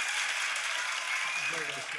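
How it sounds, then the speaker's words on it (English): Applause from an audience at a songwriter showcase, a dense wash of clapping with a voice emerging faintly near the end. "You said you wanted applause"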